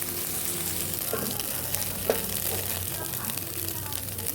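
Onions and an egg frying in a pan while making macaroni, a steady low sizzle running throughout with a couple of brief stirring clicks, close and moderately quiet.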